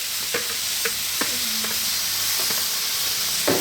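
Oiled vegetables frying on a Weber griddle, a steady bright sizzle and hiss with a few sharp scraping or tapping accents from stirring, close and continuous with no talk.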